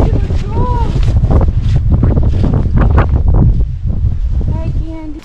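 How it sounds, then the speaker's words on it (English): Strong wind roars across deep, drifting snow outside a horse barn in extreme cold, loud and buffeting close to the microphone, while a person talks over the gusts. "the wind just makes these huge drifts build up"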